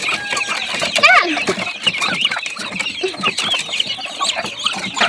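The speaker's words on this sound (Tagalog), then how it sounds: "Mga madadaming bibi." Many ducklings being fed, giving dense overlapping clucks and peeps close by, with people talking over the flock throughout.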